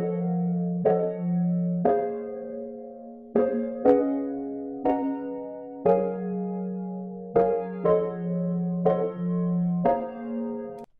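Two sample loops from a Steinberg library, bounced together and played back in Cubase 13: a soft tonal pattern of sustained pitched notes with plucked attacks, changing pitch every second or so, with no voices.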